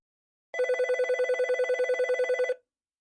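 A wall telephone rings as a sound effect in a narrated story, one continuous two-second burst of rapid electronic bell trills, close and clear against silence, with no voices over it.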